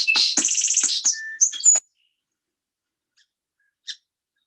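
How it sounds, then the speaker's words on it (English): A song sparrow sings a bright, varied phrase of rapid trills and buzzy notes lasting under two seconds, close and clear outdoors, followed by near silence and one faint later chirp. "I just love to be outside and hearing song sparrows sing"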